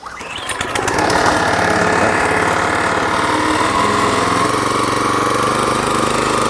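The small engine on a Hannong Ssakssuri-top farm machine revs up as the throttle is raised, then settles into a loud, steady high-pitched drone close by, with no talk.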